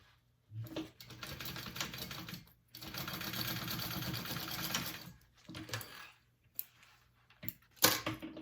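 Sewing machine basting fabric bag pieces, two quick bursts then a longer steady run of rapid stitching, followed by a few short clicks and handling noises, close and clear.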